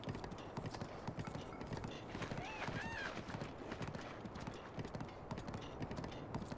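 A horse gallops downhill in Zelda: Breath of the Wild, hooves drumming in a fast, even clip-clop throughout, with a short whinny near the middle and a voice talking over it.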